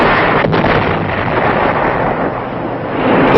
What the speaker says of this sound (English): and artillery, and the B-52s start their aerial bombardment.